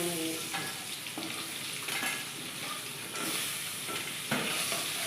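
Crab legs fry in hot oil with a steady, close sizzle and crackle, broken by occasional stirring scrapes, alone without talk.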